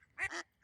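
Ducks that return every year, including last year's young, give a couple of short, nasal quacks close by, quick and loud, then a third begins.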